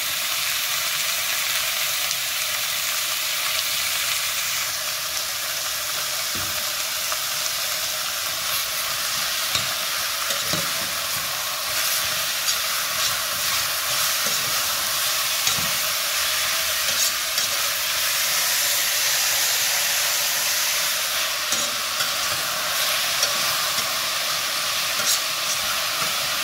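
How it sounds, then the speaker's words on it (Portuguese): Food sautés in a pan for a lasagna, giving a continuous, even sizzle and hiss that runs unbroken throughout, with faint occasional clicks of stirring. "está refogando aqui"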